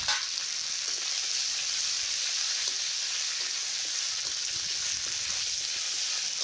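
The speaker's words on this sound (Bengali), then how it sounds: "তো এবার আমি পাতাগুলো ভেজে নিচ্ছি নিম পাতাগুলো" Neem leaves fry in hot oil with a steady, bright, continuous sizzle that stays even and close throughout, with no talk.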